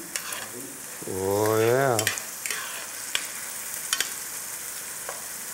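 Onions and mushrooms fry and get stirred in a pan for an egg dish, a steady soft sizzle with scraping clicks, while someone briefly speaks a short phrase over it.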